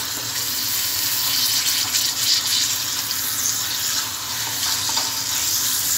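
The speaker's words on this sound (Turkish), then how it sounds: "Bunu kavuruyorum." About 250 to 300 grams of minced meat frying in two or three tablespoons of oil, a steady close sizzle and hiss with no talk.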